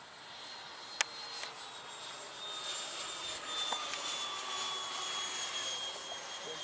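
An 80mm electric ducted-fan T-33 model jet flies overhead with a steady, distant whine. It swells slightly at the midpoint and is heard alone, apart from a faint click near the start.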